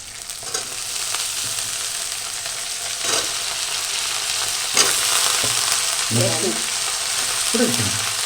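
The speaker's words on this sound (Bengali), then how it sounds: "এবার চলে যাচ্ছে আলু" Potatoes tip into a hot pan for a cabbage and rohu fish head dish, giving a loud, continuous sizzle broken by several stirring scrapes and clatters close by.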